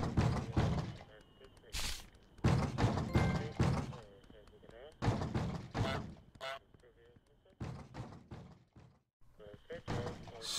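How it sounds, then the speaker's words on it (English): Gardener banging repeatedly on a garage door in Untitled Goose Game, a run of loud, close thuds and knocks in irregular bursts with short pauses between them. "you may have to wait until he starts banging on the door like that"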